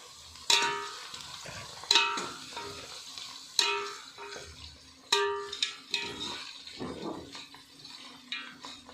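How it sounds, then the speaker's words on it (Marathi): Green chillies frying with onion in a pan, a soft sizzle underneath repeated sharp clinks and scrapes of a spoon stirring against the metal, close and intermittent, no talking. "आता आपली हिरवी मिरची चांगली परतली"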